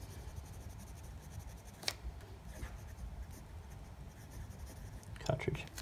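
Quiet scratchy rubbing of a fine-nib pocket fountain pen writing on paper, with slight feedback, close and low under a soft murmuring voice, with a few sharper ticks.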